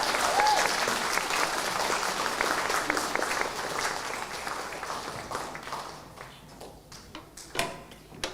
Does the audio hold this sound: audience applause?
yes